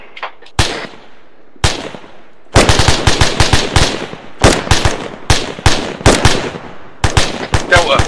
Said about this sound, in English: Taking shots somewhere.